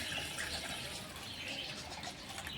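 Strained carrot payasa liquid is poured back into the same cooking pot, a soft continuous splashing and trickle at low level, steady throughout with no talk.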